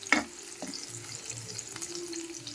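Chopped onion dropped into a hot tempering of cumin and curry leaves, giving a steady close sizzle and crackle with a brief clatter at the start, and no talking.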